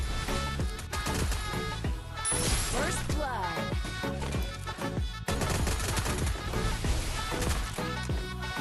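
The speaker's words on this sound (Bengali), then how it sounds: "লাস্ট গুলি, লাস্ট শট শেষ ভাই, P90 এর মাইর" Rapid bursts of P90 submachine gun fire in a video game, dense and loud, with sharp repeated shots over game music and effects throughout.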